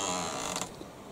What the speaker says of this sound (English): Oh, that creak!